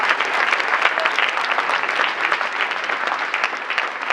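A theatre audience at a legislative theatre performance breaks into sustained applause, a busy, crackling mass of hand claps held at a steady level for several seconds, with no speech.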